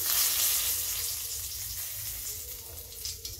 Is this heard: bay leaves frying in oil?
yes